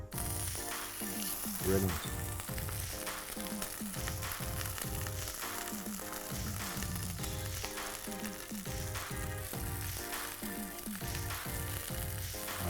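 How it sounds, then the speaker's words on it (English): Vegan burger patties frying in a generously oiled hot pan, a continuous dense sizzle lasting throughout with music playing over it and a brief spoken word near the start. "Okay, so we fry them for about 2 minutes on each side."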